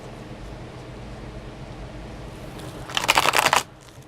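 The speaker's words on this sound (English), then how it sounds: "let's give this a couple more shuffles here." A brief burst of tarot cards being riffled and shuffled, loud and close, after a quiet stretch of low background hiss.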